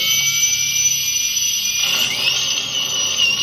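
A steady, high-pitched whining drill runs continuously at close range, its tone shifting slightly partway through, with no voices.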